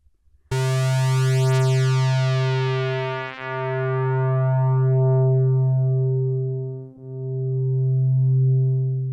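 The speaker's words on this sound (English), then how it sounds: "A low-pass filter puts only the low frequencies through and cuts off the higher ones." A steady synthesizer tone plays through a low-pass filter in three long, sustained notes with brief dips between them, bright at first and smooth, loud and alone.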